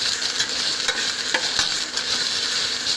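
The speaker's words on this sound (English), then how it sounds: "We will stir the vegetables so that it gets cooked properly." Vegetables for a veg biryani sizzling steadily in a pan while being stirred, with a continuous loud fry and a couple of faint scraping clicks.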